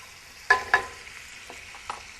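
Capers are stirred into a piccata sauce for grouper in a pan, with a few soft spoon taps and scrapes over a faint, low simmer.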